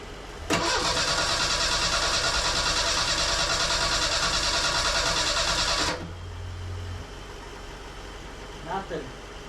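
A Merkur XR4Ti with a swapped engine cranks loudly and steadily for about five seconds without catching, then drops to a quieter rumble with a brief faint sound near the end.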